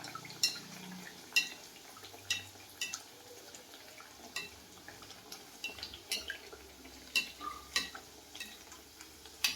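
Bhature fry in hot oil, a faint steady sizzle broken by light metallic clicks and scrapes as a slotted spoon stirs and bastes, near and quiet.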